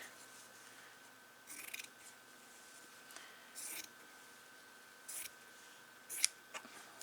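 Scissors snip out a redwork embroidery piece in a quiet room, with several short, close cutting crunches spaced a second or two apart.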